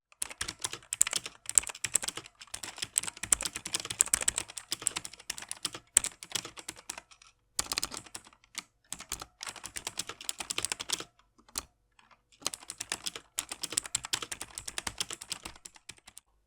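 Rapid typing on a CM MS120 membrane-mechanical gaming keyboard, a dense run of clicky keystrokes heard close up, broken by a few short pauses, with no voices.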